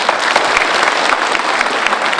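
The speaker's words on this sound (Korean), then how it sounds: "박수로 환영해 주시기 바랍니다." Steady applause from an audience at a public debate forum fills the room, dense clapping sustained throughout with no voices on top.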